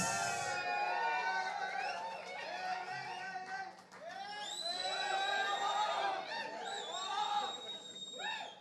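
A large audience cheers loudly for actor Allari Naresh as he comes onstage at a film promotion event, with shrill whistles and excited shouts running continuously through a dense crowd roar.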